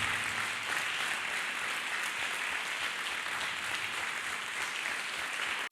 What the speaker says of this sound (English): Clap hands for Jesus Christ